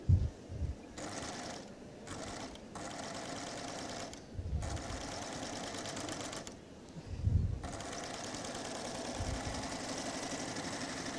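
A Babylock serger sewing a chain stitch runs in several quick mechanical bursts with short pauses between them. A soft background hum and a few low thumps come through, and there is no talking.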